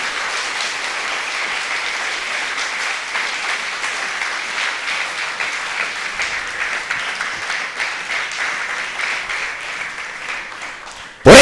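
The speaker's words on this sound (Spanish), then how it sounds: "Denle un fuerte aplauso al Señor." A church congregation gives a loud, sustained round of applause for the Lord during a Spanish-language Christian sermon, dense continuous clapping filling the room, close and full.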